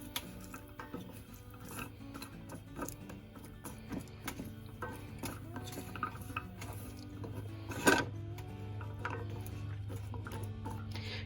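Ingredients for a charcuterie platter are stirred together in a pan, giving quiet, scattered clinks and scrapes of a utensil against metal over a low kitchen hum, with one sharper knock.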